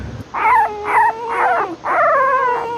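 Rescued dogs, hungry, dehydrated and flea-covered, whimper and howl in four drawn-out rising-and-falling cries, loud and close with brief gaps between them.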